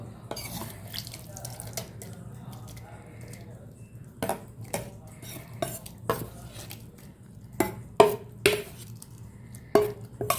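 Oats tipped into a mixer jar in a home kitchen for oats dosa, heard as scattered light clinks and rattles against the jar, some sharper taps clustered toward the end, over a quiet low hum.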